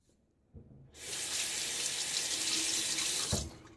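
Cold hard water from a tap runs into a sink, a close steady rushing that starts about a second in after a few small knocks and cuts off shortly before the end.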